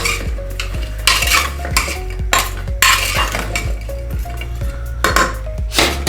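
Vegetables for pav bhaji being stirred with salt in a metal pan: repeated scraping and clanking strokes of a spoon against the pan over a faint sizzle, close and steady.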